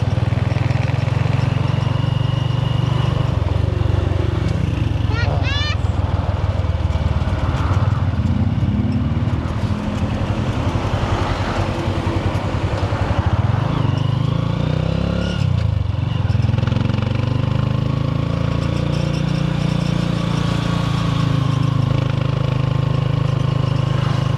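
A Honda Supremo 150cc motorcycle carrying four riders runs continuously as it travels, a loud, close engine drone with rattles and wind rumble that never lets up.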